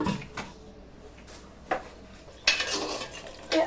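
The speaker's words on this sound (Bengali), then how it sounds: "এখন ঢাকা দিয়ে রাখবো" A lid goes onto a beef curry pot cooking on a clay stove on a veranda, heard as a few sharp metallic clanks and scrapes spread apart, with the last and loudest clatter near the end.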